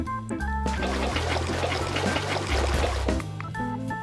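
Water gushing and draining away in a video game, a steady splashing, trickling rush that holds for several seconds at close range with no talk over it.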